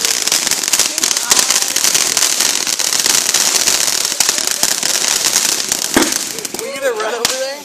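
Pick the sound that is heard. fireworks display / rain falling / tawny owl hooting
fireworks display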